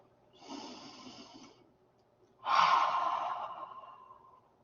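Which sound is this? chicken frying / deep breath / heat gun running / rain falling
deep breath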